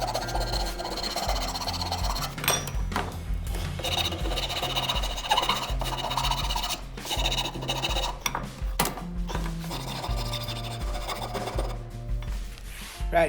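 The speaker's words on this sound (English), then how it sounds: "take the file rasp and use the file side, that's the less coarse side, and go ahead and clean up all the edges" A file rasp, fine side, smoothing the broken edges of a wooden mallet head and handle, close repeated rasping strokes in an irregular rhythm over faint background music.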